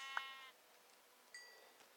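Two short bleats from a sheep in Minecraft, a higher clear one near the start and a fainter one later, with quiet game ambience and no talk.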